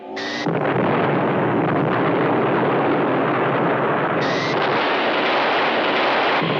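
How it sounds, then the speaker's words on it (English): Anti-missile missiles launched at Cyber ships in classic Doctor Who, a loud continuous roaring blast that fills the whole span, with two short high electronic tones at the start and near the end. "they're able to shoot down the cyber ships with anti-missile missiles"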